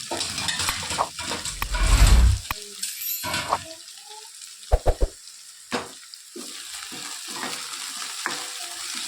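Chopped green onions sauté in a hot pan with a crackling sizzle, broken by scraping stirs and a few sharp clinks of a utensil against the pan. No one speaks.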